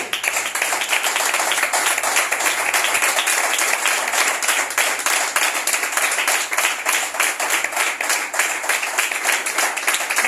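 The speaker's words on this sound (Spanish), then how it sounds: "Entonces hágale fuerte las palmas a Él." A church congregation claps loudly during a sermon, a fast, steady stream of many hands in rhythmic, driving palm claps that continues without a break.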